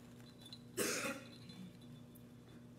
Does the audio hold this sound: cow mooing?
no